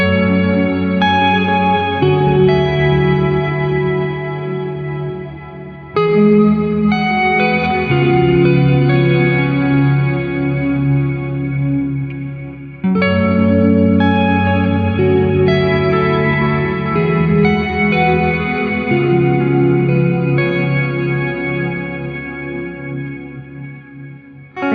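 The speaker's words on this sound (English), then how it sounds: "This will add a lower octave to the reverb tail." Guitar notes played high on the neck through an Astral Destiny octave modulation reverb pedal in sub mode bloom into a long reverb tail with a deep octave-down layer rumbling beneath, loud and sustained.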